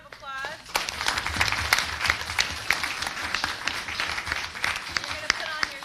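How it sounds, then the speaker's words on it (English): Audience applause at a women's leadership council meeting, a round of clapping that swells after a moment and carries on steadily, with voices talking over it. "Then we're going to give her a Thank you. wild round of applause."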